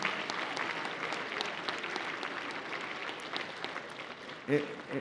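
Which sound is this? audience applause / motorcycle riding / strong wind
audience applause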